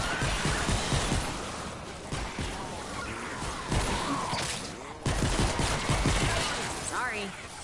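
Rapid bursts of gunfire in a video game rattle almost continuously, with short gaps between volleys, while a player talks over the shooting.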